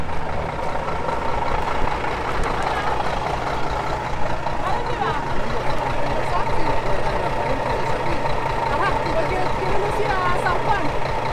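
Steady low truck engine drone with road rumble, heard from inside the cab on a journey through Argentina toward Mendoza, continuous throughout with people talking over it.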